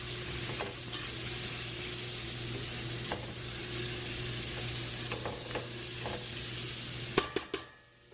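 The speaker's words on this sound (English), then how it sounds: "let's make sure we stir this around" A pot of non-seafood boil sizzles and bubbles on the heat while a utensil stirs it around, scattered scrapes and knocks against the pot over a steady hiss, ending in a few louder clanks.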